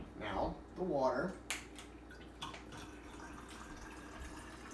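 Tap water pours into a vinegar-based homemade cleaning spray mixture, a brief splashing fill heard close by after a person speaks.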